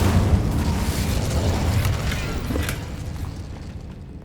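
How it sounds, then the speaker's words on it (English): Incendio fire spell cast in the video game Hogwarts Legacy, a loud whooshing burst of flame with a booming crackle that fades gradually over a few seconds. "Incendio!"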